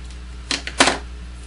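Scissors trim a paper stamp-and-die packaging label in a few quick crisp snips, close and alone over a faint steady hum.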